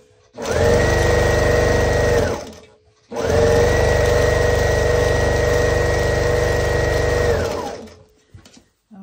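A sewing machine stitching quilt pieces, heard close and loud in two long runs of steady motor whir, the first about two seconds and the second about five. A short pause separates them.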